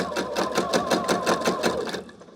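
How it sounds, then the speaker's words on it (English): A sewing machine runs steadily as it stitches straight through a quilt block, a fast, even pulse of needle strokes close up that slows and stops near the end. "Just stitch it like you would a normal quilt block."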